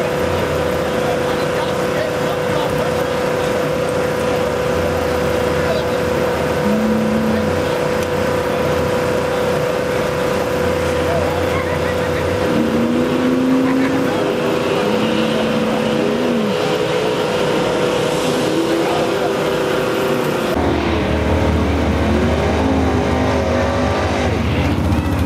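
Race cars running at Bowman Dragstrip, heard as a steady engine drone with rising whines of revving and passing cars, fairly loud throughout, with a sharper burst of engine noise near the end.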